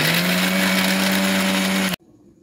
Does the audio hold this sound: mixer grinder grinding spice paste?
yes